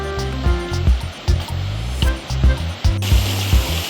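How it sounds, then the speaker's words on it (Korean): Water in a Japanese mountain village running down like a small waterfall into a stone canal, a loud, close, continuous rushing flow broken by repeated low thumping knocks. "마을 위에서 내려온 물길은 작은 폭포처럼 수로에 합류하고"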